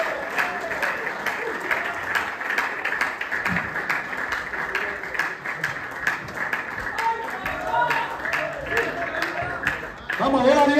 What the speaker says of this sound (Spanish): Un aplauso, iglesia fuerte.